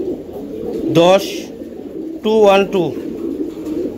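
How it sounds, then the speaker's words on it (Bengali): A white racer pigeon with blood-red eyes, raced in club competition, gives two drawn-out coos about a second apart, near and prominent over a steady background hum. "দেখেন কবুতর দেখেন"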